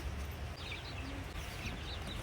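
Chickens cluck faintly in the background, several short calls scattered over a steady outdoor hum.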